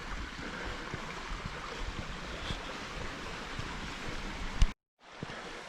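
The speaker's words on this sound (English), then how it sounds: "Trail along the creek." A creek rushes beside a hiking trail at Twanoh State Park near Belfair, Washington, its steady broadband wash filling the air until it cuts off abruptly near the end and then resumes.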